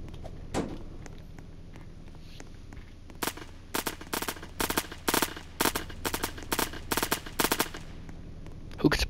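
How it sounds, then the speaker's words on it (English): Bursts of automatic gunfire crack out in a Roblox hood game, a quiet start with a lone shot, then a rapid series of sharp, evenly spaced shots that stay loud and close. "Who could possibly be shooting?"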